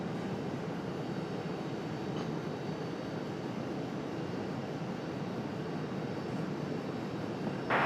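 An ATR turboprop approaches Raleigh Durham airport, a steady broadband engine rumble and roar, distant to moderate and continuous, with no talking.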